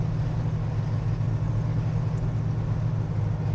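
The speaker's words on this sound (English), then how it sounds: "these are Flowmaster mufflers, so it's where you get that nice little sound from" A 1979 Pontiac Trans Am engine rumbles steadily through Flowmaster mufflers, a deep, even, continuous drone heard up close with no voices over it.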